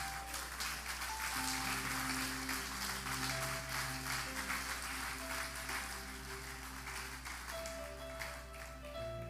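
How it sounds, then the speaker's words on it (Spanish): Church congregation claps steadily through the sermon's closing, sustained applause blended with held keyboard or organ chords and a low bass drone, loud and continuous throughout. "Dale fuerte el aplauso."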